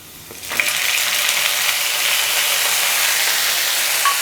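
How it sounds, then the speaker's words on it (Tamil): Sliced tomatoes drop into hot oil in a pan for Indian kara chutney, setting off a loud, steady sizzle and hiss that swells right after a brief clatter and then holds. "2 தக்காளியை நல்லா நீல வாக்கில் கட் பண்ணி எடுத்துருக்கிறேன். இப்போ அதையும் போட்டுறேன்"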